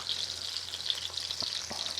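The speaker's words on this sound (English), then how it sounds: "they are not frying at the highest of temperature" Battered oysters sizzle steadily in hot oil over a wood stove, a dense, continuous crackling fry with faint pops and stirring, heard close with no talking.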